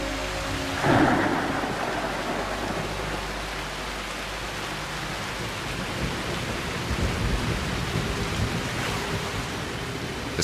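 Steady heavy monsoon rain in South India pours down continuously, with a sharp crack of nearby thunder early on followed by deep rumbling that swells again later, no voices present.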